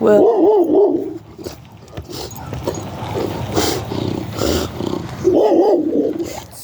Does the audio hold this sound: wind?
no